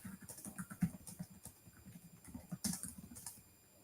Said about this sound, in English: I'm just trying to type and talk at the same time.